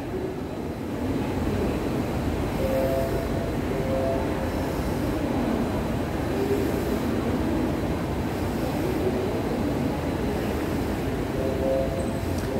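Airport rail link train at Suvarnabhumi Airport, Bangkok, giving a steady, continuous rumble of rolling wheels with faint squeal, heard alone at moderate distance without any talk.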